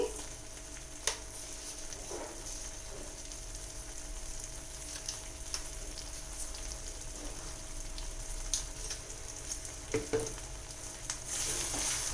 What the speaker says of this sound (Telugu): ఇది పచ్చివాసన పోయే వరకు ఫ్రై చేసుకోవాలి.